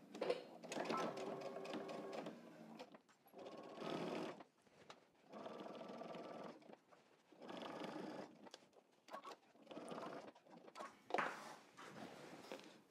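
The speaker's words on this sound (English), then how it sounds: "we're going to stitch following that little stitching line and then down the other side" A sewing machine stitches denim jeans into a skirt in several short runs of rapid mechanical whirring, each separated by brief pauses, close and clear.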